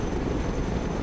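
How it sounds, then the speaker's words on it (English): A helicopter in the Broken Arrow video game churns with a continuous dense rotor and engine roar, loud and steady, with no breaks. "Helicopters are impressive machines. Boy, are they noisy."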